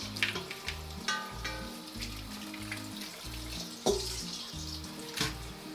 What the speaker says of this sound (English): we can do it on cool water, separates it from the strings pretty easily. So just take a handful, rinse them out.